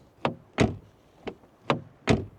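Doors and tailgate of a 2015 Peugeot 508 SW estate being shut, five separate solid thunks spaced roughly evenly, close by with no talking.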